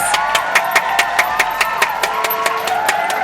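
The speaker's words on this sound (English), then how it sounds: "y'all give him a round of applause" An audience claps in a sharp, regular rhythm, with distinct beats about twice per second, while scattered cheers and whoops rise underneath.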